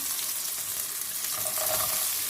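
Steady, close sizzling and hissing of a chicken and vegetable stir fry in a hot pan, with a brief surge of crackling as carrots are added, no voices over it.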